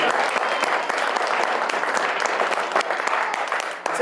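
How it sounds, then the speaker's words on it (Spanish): Congregation at a church service applauding, steady dense clapping filling the whole stretch at close range, with scattered voices and shouts mixed into the crowd noise. "Alguien dele un aplauso al Señor Jesucristo y a su nombre."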